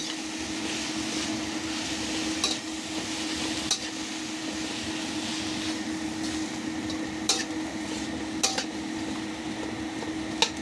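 Ampalaya (bitter melon) stir-fry with oyster sauce and chicken powder being stirred in a pan, with steady low frying hiss and a few sharp utensil scrapes and clinks against the pan, close and alone without talk.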